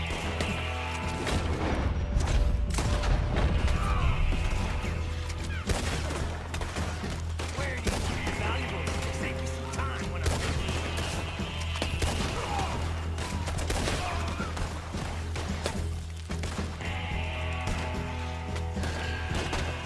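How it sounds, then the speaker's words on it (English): Dense gunfire from Red Dead Redemption 2 fills the scene: rapid volleys of shots, bullet impacts and ricochet-like deflections crack and crash continuously over a low rumble, loud and busy with no pauses. "I love the bullet deflections and the bullet hits"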